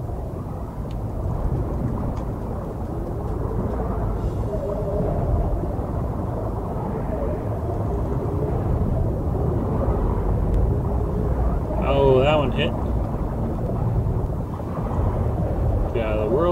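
Thunder from lightning bolts in the game Ark, out on the ocean: a continuous deep rolling rumble with a wash of rain-like noise, swelling and fading without sharp cracks, and a brief warbling tone near the end.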